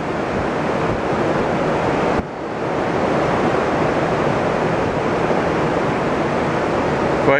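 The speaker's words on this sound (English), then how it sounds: "I turned the camera toward the waves, but you get so much wind noise you'd never hear anything." Winter storm waves of 10 to 12 feet on Lake Erie roar continuously under heavy, buffeting wind noise on the microphone, loud and steady throughout.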